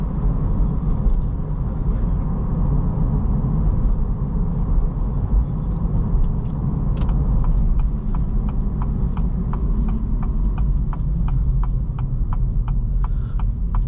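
Steady low road rumble and tire hum fills the cabin of a 2023 Acura Integra A-Spec on the move, loud and constant, with a series of faint regular ticks in the second half.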